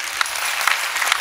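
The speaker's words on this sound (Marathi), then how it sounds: "एकदा जोरदार मनापासून टाळ्या वाजवा जरा जोरात" An audience at a Marathi devotional kirtan gathering claps loudly and continuously, a dense rattle of many hands with no voices on top.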